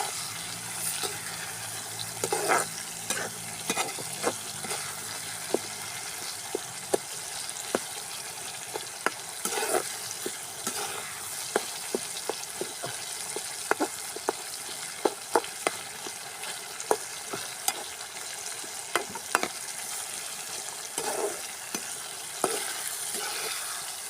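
Garlic frying in hot oil in a village kitchen, a steady dense sizzle broken by frequent clinks and scrapes of a spoon stirring the pan, running continuously and close with no talk.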